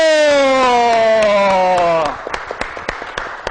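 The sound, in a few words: applause for the president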